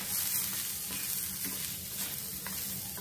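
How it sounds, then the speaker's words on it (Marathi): Onions browning in a pan for Konkan-style egg curry give a continuous close sizzle with light stirring scrapes, soft and steady, with no voices. "आपला कांद्याचा कच्चा वास जाईपर्यंत आपल्याला हा भाजून घ्यायचा आहे."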